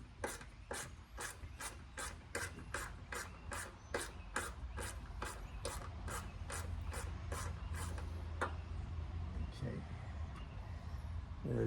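Quick repeated ratchet clicks, about fifteen sharp strokes in a steady rhythm, as a socket ratchet backs out a 7/32 bolt during cabin air filter replacement on a 2004 Mercury Sable, close by, ending with a faint clink.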